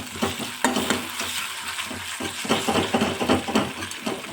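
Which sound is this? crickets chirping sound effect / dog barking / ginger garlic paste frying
ginger garlic paste frying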